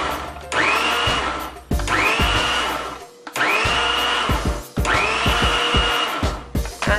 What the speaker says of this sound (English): let's go ahead and put the lid right back on